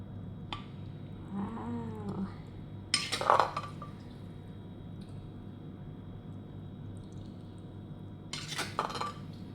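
A spoon scrapes and clinks against a plate in a few quick bursts while serving spicy Thai rice noodle and cucumber salad, with quiet kitchen background and gaps of near silence between.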